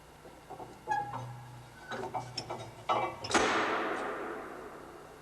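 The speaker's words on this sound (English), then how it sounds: "Reinsert the rotor shaft into the casing." A metal rotor shaft from a Mitsubishi MET-SC exhaust gas turbocharger is slid back into its casing with close, soft metallic clicks and scrapes, ending in a louder ringing clank that fades away.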